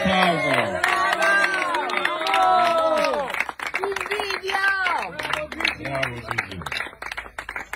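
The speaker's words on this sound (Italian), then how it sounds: "Grande applauso." Crowd clapping and cheering at a running event celebration by Lake Orta, steady applause under loud, animated talking voices throughout.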